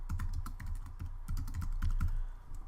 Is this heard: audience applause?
no